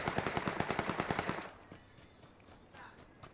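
A rapid burst of about a dozen evenly spaced shots fires from a Kar98 rifle in a shooter video game, loud and sharp, then trails off into quiet background ambience.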